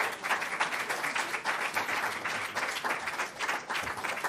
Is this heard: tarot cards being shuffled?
no